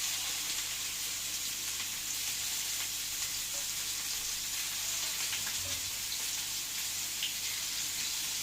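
Burger patties sizzling on a lightly oiled griddle, a loud continuous crackling hiss that holds steady throughout with no voices.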